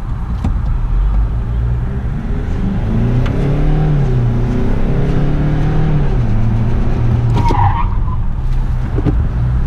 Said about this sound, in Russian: Давай, сейчас динамику дизеля оценим. 2 литра сколько сил? 180.